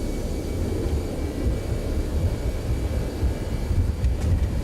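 Airbus A321neo thrust reversers roaring during the landing rollout in the X-Plane 12 flight simulator, a steady loud low rumble of jet engine noise that holds throughout with no talk.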